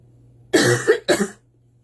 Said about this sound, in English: Sorry about that, I had to cough.